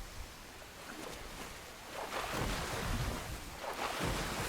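A creature glides across water in ARK Genesis, a steady rushing wash of water and wind that swells louder midway and carries on without speech.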